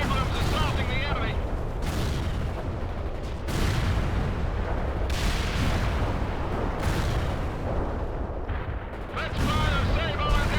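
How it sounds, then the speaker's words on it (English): Heavy Abrams tank cannon fire and explosions in the video game World in Conflict, repeated booming blasts every second or two over a dense rumbling battle bed, with radio-style voice chatter. "Abrams assaulting the enemy."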